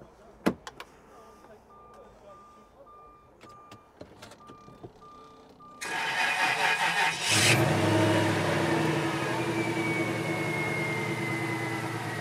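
A Jaguar S-Type with a 4-litre V8 drives along after leaving a car meet, with steady, close cabin road and engine noise building after a few quiet seconds of small clicks and knocks.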